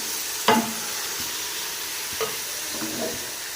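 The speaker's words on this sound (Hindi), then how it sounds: "अब गोश्त डाल देंगे।" About 1.5 kg of mutton (gosht) goes into a hot pot for Shinwari namkeen gosht, bursting into a loud, steady sizzle and hiss, with a few clattering stirs and splashes near the start and again midway.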